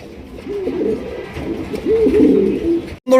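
Farm-bred pigeons at a wholesale pigeon market coo in a few soft, rolling phrases close by against a low background hum, and a sharp clatter cuts in at the very end.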